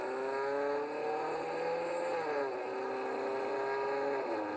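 A car engaging first gear and accelerating as it merges into traffic, its engine a steady, close drone whose pitch climbs, dips and climbs again through the run, with no talking.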